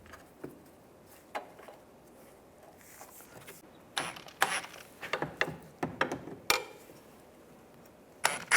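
Ratchet wrench tightening bolts on the right rear trailing arm of a 2004-2010 BMW X3, heard as bursts of metallic clicking and clattering mechanism noise, sparse at first then denser in the second half, close and fairly loud with no talk.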